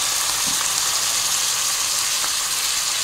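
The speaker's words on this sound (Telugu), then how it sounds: "సన్నగా కట్ చేసిన ఆనియన్స్, బీన్స్, క్యారెట్, అలాగే బఠానీ వేసుకుంటున్నాను" Finely chopped onions, beans, carrots, peas and meal maker frying in hot oil, making an even, continuous hiss-like sizzle close by with only faint clinks, no voices.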